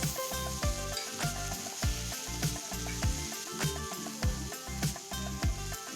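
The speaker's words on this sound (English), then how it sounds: "I will now add the minced green chilies and stir it a few times." Minced green chilies sizzle in a hot pan while being stirred, a steady frying hiss broken by rhythmic spoon scrapes and taps against the pan, close and without talk.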